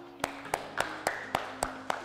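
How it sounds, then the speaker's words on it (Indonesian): Claps in a classroom as a teacher asks pupils to applaud everyone, heard as seven or so sharp, evenly spaced single claps about a third of a second apart, fairly close, over a low steady hum. "tepuk tangan untuk kita semua"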